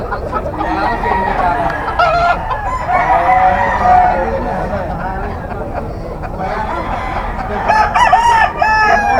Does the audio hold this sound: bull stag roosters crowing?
yes